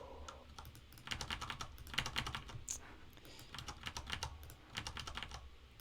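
Steady, fast typing on a keyboard while entering checkout details, the keystrokes coming in dense runs with brief gaps, close and clear against a faint background hiss.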